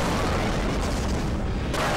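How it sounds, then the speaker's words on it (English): Big green explosions rumble in the video game Global Defence Force, a loud continuous roar of blasts with deep booming low end and a fresh burst near the end. "These big green explosions."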